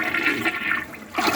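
An American Standard Ravenna 3 toilet, a warranty replacement, flushes with a strong rushing swirl of water from its rim jets, loud and close throughout.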